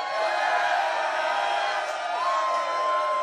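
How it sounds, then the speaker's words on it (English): A concert audience at The Broadberry lets out a loud, sustained cheer with whoops and shouts that fills the room for several seconds. "Perhaps that thought could be confirmed by a loud cheer from the audience."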